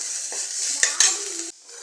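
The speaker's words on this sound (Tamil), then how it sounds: "இஞ்சி பூண்டு பச்சை வாசனை போகிற வரைக்கும் வதக்கிக்கோங்க." Ginger and garlic sizzle in a hot pan while a utensil scrapes and stirs, with a couple of sharp clinks, before the frying noise suddenly drops off.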